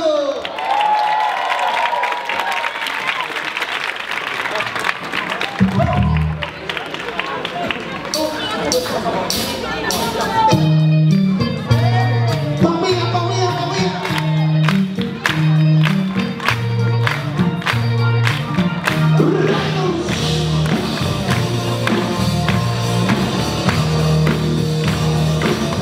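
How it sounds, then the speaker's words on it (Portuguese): A stage audience greets a performer being introduced at a comedy show with a sustained wave of applause and cheering, with crowd noise and some talk running over a rhythmic music bed. "Recebam com muitos aplausos Lucas Veloso!"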